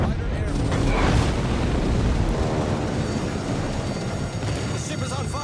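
Bombs burst around a Bismarck battleship in a naval combat video game, heavy rumbling booms overlapping with sustained low roar and battle noise, loud and dense, with a voice talking over it.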